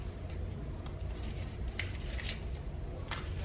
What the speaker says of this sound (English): I'm probably gonna have to cut off some of this doily.